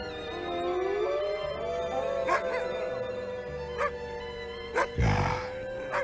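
Dogs howling and yipping together in a drawn-out, wavering chorus, loud and near, with a few sharper barks and a heavy thump near the end.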